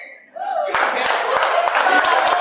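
Audience clapping and cheering at a campus speaking event at a university, a sudden loud burst of applause with sharp individual claps and crowd voices that keeps going after a brief shout.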